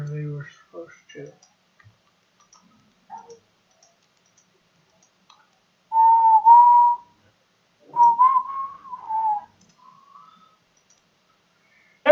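A person whistles short tonal phrases with gaps between them, alone and fairly close, with a few faint clicks and brief voice fragments near the start.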